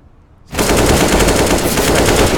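Sustained automatic AK rifle fire from Counter-Strike: Global Offensive erupts after a brief quiet moment, a loud, dense burst of rapid shots that continues without pause.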